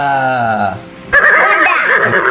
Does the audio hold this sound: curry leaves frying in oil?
no